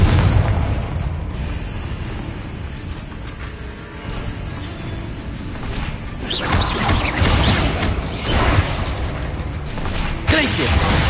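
Confringo blasting spells from a Harry Potter video game go off as loud, crashing explosions, several bursts in turn over a steady rumble of game noise.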